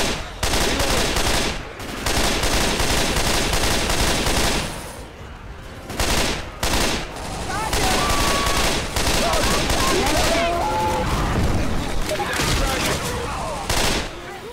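Heavy automatic gunfire in the video game Left 4 Dead 2, long loud rattling bursts broken by short pauses, close and dominant, with game voices now and then.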